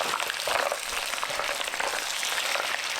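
Washed mussels go into a hot, fragrant oil with pepper for an Italian-style steamed mussel dish, setting off a loud, steady sizzle that hisses continuously without a break.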